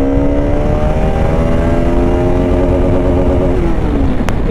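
A Bajaj Pulsar RS 200 motorcycle accelerates hard through its gears, its engine note climbing steadily in pitch, dropping at a shift, then rising again; loud, close and continuous with no talking.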